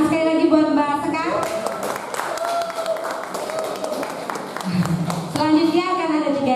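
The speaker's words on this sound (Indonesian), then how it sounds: "Beri tepuk tangan sekali lagi buat Mbak Sekar." Audience applause at an International Coffee Day performance event, a crisp burst of many hands lasting several seconds between stretches of someone speaking into a microphone.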